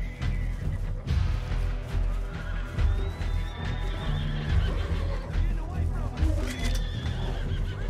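A horse in Red Dead Redemption 2 neighs and whinnies repeatedly with clip-clop hoofbeats, loud and close, while people talk over it.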